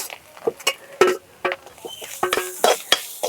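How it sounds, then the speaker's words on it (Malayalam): Grated coconut is stirred and roasted in a pan, with a spatula scraping and clinking against the metal in short, irregular strokes and a faint sizzle between them, close up and without talking. "ഇനി നമുക്ക് അതിലേക്ക് തേങ്ങ ഇട്ട് കൊടുക്കാം. ഇനി നമുക്ക് നല്ലതുപോലെ ഒന്ന് വറുത്തെടുക്കാം."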